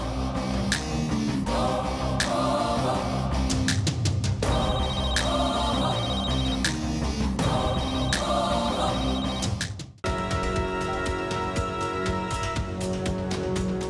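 A telephone rings in a Tamil TV serial scene: two bursts of rapid, trilling rings sound under loud, continuous background music, which then shifts to a new passage.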